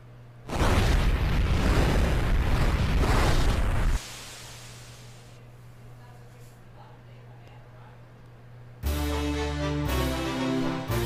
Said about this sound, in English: our little summoner has now learned the fire spell